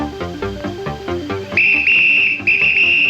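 A loud, shrill whistle blasted as a secondary fire alarm signal in a bedroom at night, sounding in two long sustained blows after a stretch of orchestral cartoon music.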